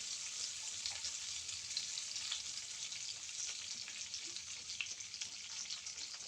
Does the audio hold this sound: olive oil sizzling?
yes